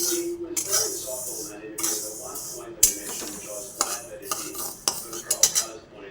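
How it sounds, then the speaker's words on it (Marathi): Moong dal is stirred in a hot kadai with a metal spoon, giving repeated scraping swishes and sharp clinks against the pan, close and uneven in rhythm, with a voice talking at times. "गॅस बंद केल्यानंतर पण आपण एखादा मिनटं ही अशी डाळ हलवत राहायची"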